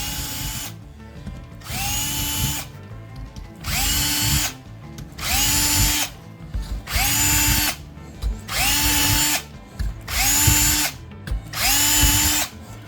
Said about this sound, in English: take our 1/8" drill and drill right through these holes